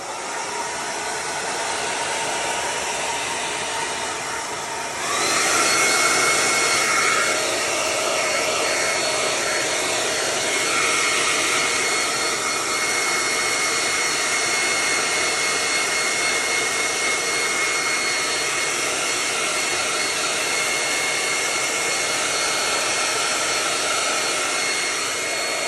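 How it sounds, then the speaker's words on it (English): A hair dryer blows continuously for about twenty-five seconds, a loud, close, steady roar that jumps louder partway through as the setting or angle shifts, with no talking over it. "I do have my hair dryer."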